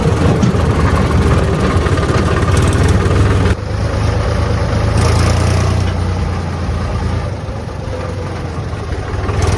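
A tractor engine running, a loud steady low rumble with rattling, the tone shifting abruptly partway through and then continuing evenly, with no talking.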